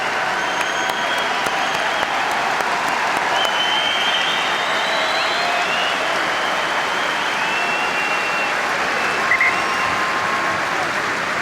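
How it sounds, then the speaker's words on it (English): Rugby crowd at a Scarlets home match against Edinburgh applauding a departing player, steady sustained clapping from a large stadium audience across the whole stretch, broad and continuous without a break. "I'm sure he'll get an applause from this Parky Scarlets crowd"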